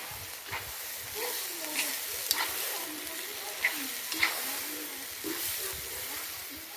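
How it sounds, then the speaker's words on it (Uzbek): Rice and vegetables for Uzbek osh (plov) sizzle and fry in a pot while being stirred, a steady hiss broken by scraping clinks of the spoon, with no one speaking over it. "Yaxshilab qovuramiz uni."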